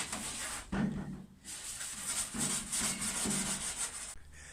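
Sandpaper on a hand block being rubbed over a car bonnet on a Peugeot 206. Close, steady back-and-forth scratchy rubbing strokes, with a short pause partway through.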